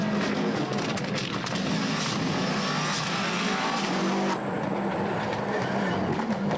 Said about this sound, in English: Henrik Lundgaard charging hard, trying to make it to Toyota 1, 2, 3.